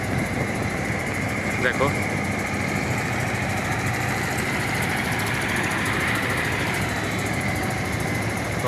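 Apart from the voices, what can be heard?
trawler boat engine on the Buriganga river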